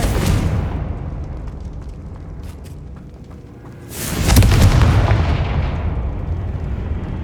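A Confringo fire spell explodes in the Hogwarts Legacy video game with a loud booming blast, preceded by a heavy rumbling roar that fades, then a second deep explosion surges and rolls on at full strength.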